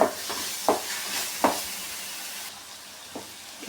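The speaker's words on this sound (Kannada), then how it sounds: "ಅಲ್ಲಿವರೆಗೂ ಈ ರೀತಿಯೇ ಸಣ್ಣಗೆ ಫ್ರೈ ಮಾಡ್ಕೊಳ್ಳಿ" Coconut and mustard masala frying in oil in a pan, a soft continuous sizzle broken by a few sharp clicks and taps of a spoon, then quieter toward the end.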